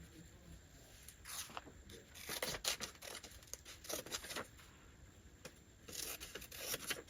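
Scissors trim vintage paper ephemera for a junk journal page, a series of short crisp snips and paper rustles at close range, with a few louder cuts and quiet handling between them.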